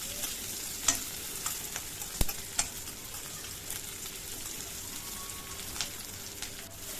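Chopped onion frying in oil in a pan until brown, a steady soft sizzle with occasional stirring clicks and spatula taps, fairly quiet and continuous with no talk.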